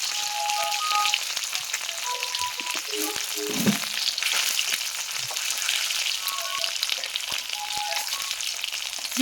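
Eggs fry in hot oil for an egg curry, a loud continuous close sizzle with scattered crackles and a brief scrape of a utensil, no talking.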